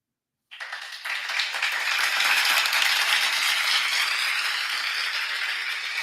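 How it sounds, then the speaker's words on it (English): A sustained burst of crowd clapping starts abruptly and holds steady, dense and bright, like a recorded applause effect played during an online members-only trivia event. "Here goes your applause."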